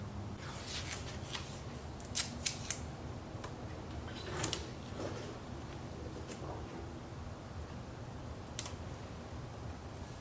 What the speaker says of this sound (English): I put a piece of tape across, cut out the radius, and remove the tape